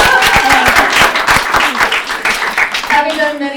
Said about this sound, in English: That deserves a clap.